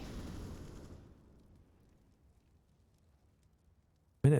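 A grenade blast in Counter-Strike during a competitive match, a burst of sound that decays into near silence before a second sharp, loud crack at the very end.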